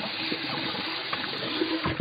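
Warm water pours from a tap over a shisha charcoal tray being rinsed in a sink, a loud, close, continuous rushing splash with shifting spatters as the tray moves under the stream.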